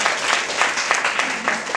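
Audience applause at a book launch, a brief burst of steady, dense clapping from a roomful of people, fairly close and even throughout.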